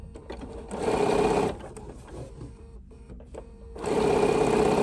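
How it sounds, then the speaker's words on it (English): A sewing machine stitches a long piece of fabric along its edge in two steady bursts of whirring, close and clear, with a quieter pause between them. "I'm going to be extra creative and sew a long piece against the edge here"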